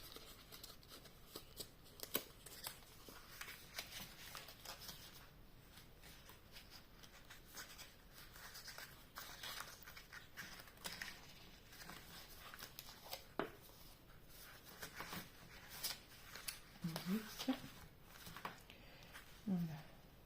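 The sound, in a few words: scissors cutting paper for a scrapbook card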